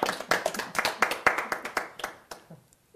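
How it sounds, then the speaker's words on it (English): Sparse, slightly mocking applause follows a card trick: a small group claps in an uneven rhythm of about a dozen sharp claps over three seconds, fading to a few last claps. "Followed by some gently sarcastic applause."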